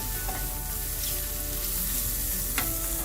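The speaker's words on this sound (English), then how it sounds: "continue sauteing our onions till you caramelize it" Onions sauté in a pan toward caramelization, giving a soft, continuous sizzle with a couple of faint utensil scrapes against the pan.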